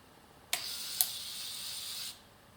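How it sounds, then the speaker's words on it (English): A small motorized accessory on an M42 aperture-priority Revueflex camera turns to set the shutter speed, a brief whirring hiss about one and a half seconds long with a click at its start and another partway through, then it stops. "The motor is turned and it stops at the suggested shutter speed."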